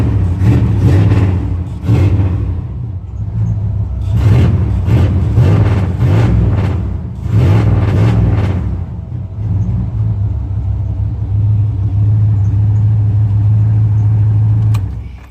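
A 1994 Chevrolet Silverado pickup with a 5.7 liter 350 V8 and a 700R4 transmission runs close by, a loud, rumbling idle broken by several revving bursts before it settles into a steady drone.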